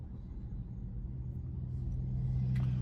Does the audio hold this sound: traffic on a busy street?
yes